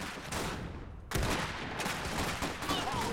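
Gunfire in the Iron Harvest strategy game: dense overlapping shots and bursts ring out from a sharp onset about a second in, continuing steadily and fairly loud to the end, with no talk.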